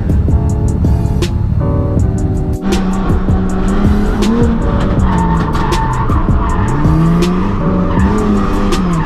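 Engine-swapped Mazda MX-5 drifting, with sustained loud tire squeal and skidding over a roaring, revving engine, continuous and close throughout.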